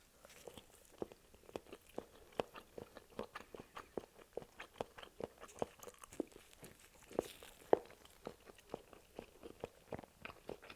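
Halal chicken wieners are chewed close to the mic in a mukbang ASMR style, with soft, moist, rhythmic bites and chewing in a steady run of many small clicks throughout.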